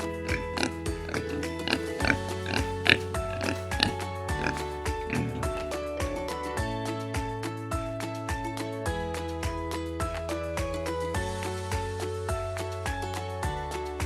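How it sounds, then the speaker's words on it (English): Farm pigs grunt and snort repeatedly in short rhythmic oinks, close and clear over a steady musical backing, with no talking. "Next, we have pigs."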